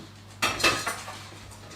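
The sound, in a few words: saucepan being handled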